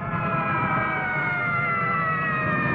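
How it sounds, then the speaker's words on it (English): A loud, continuous emergency siren wails steadily and close, its layered tones holding without pause throughout. "Do you hear those sirens?"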